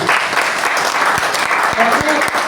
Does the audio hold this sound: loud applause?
yes